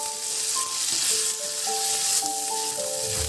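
Goat mutton fries in a pan with turmeric, colouring powder and salt, a steady sizzling hiss with a few soft clear tones sounding over it.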